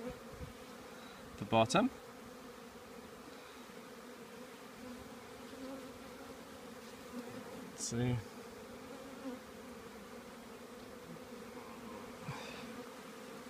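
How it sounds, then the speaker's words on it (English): Honeybees buzz steadily in a low, close drone during a nuc hive inspection, with a few sharper passes near the microphone and a person speaking briefly. "Lots of bees."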